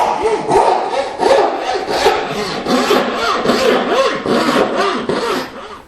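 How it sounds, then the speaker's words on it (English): A bow saw cuts wood by hand while shaping a cabriole leg for a side table, making loud, close, rhythmic rasping strokes roughly twice a second, steady throughout with no talk. "As I make my cuts with the bow saw, I try and stay about a 1/16 of an inch or so away from the line."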